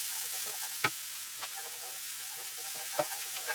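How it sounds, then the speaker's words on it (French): Chicken and garlic sizzle in a pan while a Tunisian chicken and potato tajine is being made, with a steady fry hiss broken by a few sharp stirring scrapes near the start and end. "ça sera la poêle où on va faire revenir le poulet"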